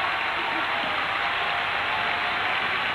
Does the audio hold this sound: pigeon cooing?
no